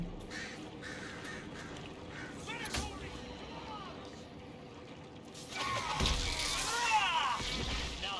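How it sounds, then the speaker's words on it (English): Crows caw in the game Dragon Age Inquisition's Exalted Plains, several harsh calls spread across the scene over a steady ambient bed, louder and busier toward the end, with a voice talking at times. "Those crows, look at them, just silly, floating in the air like that."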